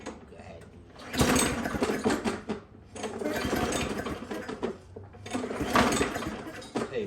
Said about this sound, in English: I just put fresh oil in this mower, so I want to pull it a couple times before I actually prime it